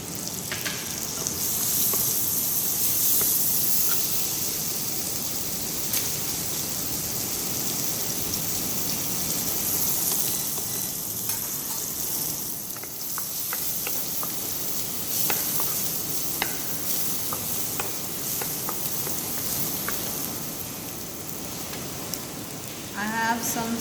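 Garlic and chopped onion sizzling in a pan for mushroom ravioli, a steady close crackling fry that continues throughout with occasional stirring clinks.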